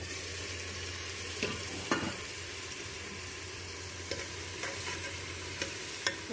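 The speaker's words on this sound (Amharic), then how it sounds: "ቤተሰቦች እንደምትመለከቱ በዚህ መልኩ ሽንኩርቱን እያበሰልኩ ነው።" Onions and garlic frying in oil in a pan: a steady close sizzle runs throughout, broken by a few soft clicks of stirring, with no one talking.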